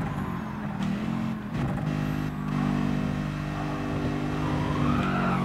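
A car drifts in GT Sport with a steady engine drone and a long tire squeal that rises and bends through the slide, mid-distance and fairly faint, with no voices.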